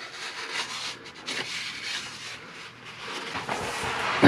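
Rag wiping leftover transmission fluid off the pan mounting surface of a Jeep, Dodge or Chrysler transmission, close steady rubbing and swishing strokes in uneven bursts.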